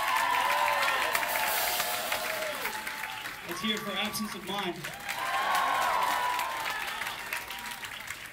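Applause and cheering from a concert crowd at a live punk show in a club, a sustained roar of clapping and whistles with yells rising and falling, while a voice speaks over it mid-way.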